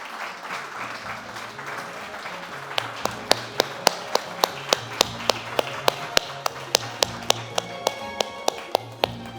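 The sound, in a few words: audience applause at an award ceremony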